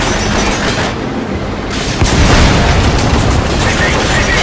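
Explosive shells from a tank in Metal Gear Solid 5 land as heavy, rumbling booms that fill the whole stretch, with a louder blast partway through and continuing loud, noisy rumble.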